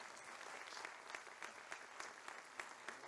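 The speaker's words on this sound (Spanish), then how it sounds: "Un aplauso." Applause at a cruise tourism and sustainability conference, a steady wash of clapping with a few sharper claps standing out, moderately distant and fairly soft throughout.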